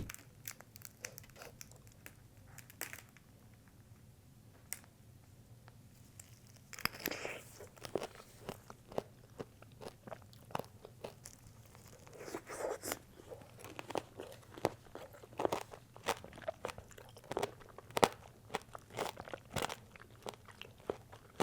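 Close crunching bites into a candy-coated strawberry whose hard sugar shell cracks over juicy fruit, sharp crackly snaps followed by softer wet chewing, irregular and intimate with no talking.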